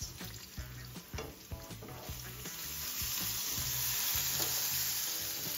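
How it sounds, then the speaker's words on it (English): Onions frying in a pan, a steady bright sizzle with repeated scraping stirs and light utensil knocks, close and moderately loud, continuing without pause. "keep turning your onions so they don't burn"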